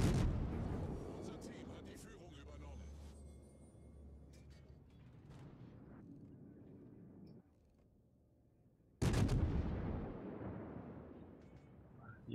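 Heavy naval guns from the cruiser Nürnberg boom in a naval combat video game, with rumbling blasts at the start and a sharp loud salvo near the end, the last shots rolling away under a quieter stretch.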